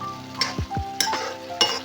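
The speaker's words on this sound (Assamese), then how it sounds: "দিয়াৰ পিছত ভালদৰে লৰাই আকৌ ঢাকি পেলাই মই সিজিবলৈ দিম।" Mutton curry with spices is stirred in a pan, giving a few close scraping strokes over a low frying sizzle, with a couple of soft thuds and brief hissing bursts.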